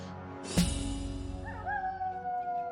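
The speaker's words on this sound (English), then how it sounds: "The wolf howl signifies that night has begun." Wolf howl marking nightfall in Warcraft III Reforged: a sharp impact then a drawn-out, wavering howl rising and sustaining over a low musical drone, fairly loud and alone.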